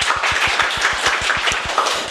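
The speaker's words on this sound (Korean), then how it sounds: "그럼 통일 시킬까요? 예, 박수를 칠까요?" A live audience claps together at a Korean history lecture, a steady burst of close, dense applause with sharp rhythmic hand claps running throughout and no voices on top.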